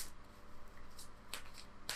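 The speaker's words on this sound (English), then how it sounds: "Let's give it one more quick shuffle." Tarot cards shuffled by hand during a reading: soft riffling rustle with a few crisp snapping bursts near the end, quiet and close, no talking.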